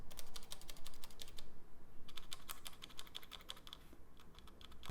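Mechanical keystrokes tap out on a Xiaomi Yuemi MK01 keyboard with red and black switches, a quiet, steady run of close clicks with a short pause partway through and no speech.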